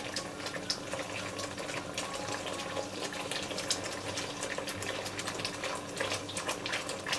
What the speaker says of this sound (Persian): آب نارنجی که داشتیم به سسمون اضافه میکنیم.